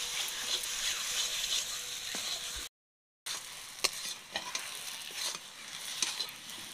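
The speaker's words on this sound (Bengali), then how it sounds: "মানকুচিটা ভালো করে নেড়ে চেড়ে শুকনো করে নেব" Mashed mankochu (giant taro) paste is stirred in a pan until dry, with a soft steady sizzle broken by repeated scraping strokes and light clinks of the spatula, with a short silent gap midway.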